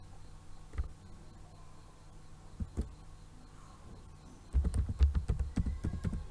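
A few scattered keystrokes on a computer keyboard while typing a document title in MS Word, then a quick burst of typing near the end, close and fairly quiet.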